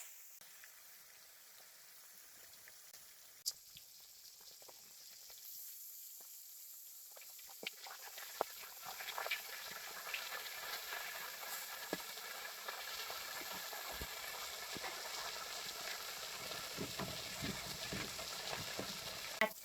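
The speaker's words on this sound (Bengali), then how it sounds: "তেল গরম হয়ে গেছে, মাছটা দিয়ে দিই।" Koi fish frying in hot oil in a wok, a steady sizzle that swells from faint to a dense, continuous crackle with scattered sharper pops, close and alone.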